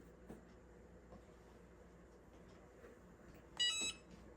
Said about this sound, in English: And there was the beep.